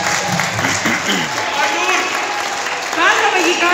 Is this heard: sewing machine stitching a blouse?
no